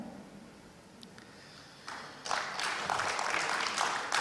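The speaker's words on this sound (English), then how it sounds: "Another round of applause for COP26 President." Applause from an audience at a B20 Indonesia business meeting for the COP26 President. Quiet at first, then it swells into dense, sustained clapping from many hands that holds steady to the end.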